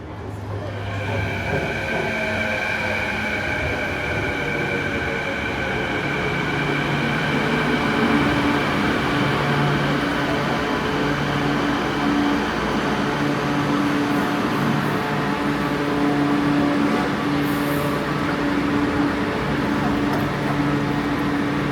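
A Canada Line SkyTrain metro train built by Hyundai Rotem runs steadily throughout, with a sustained conventional electric motor whine and rolling rumble, loud and close, with faint voices mixed in.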